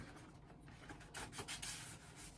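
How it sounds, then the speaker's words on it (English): A vinyl record slides out of a sturdy, good-quality gatefold jacket with soft papery rubbing and scraping bursts, ending in a brief sharper rustle. "Let's go ahead and pull the record out."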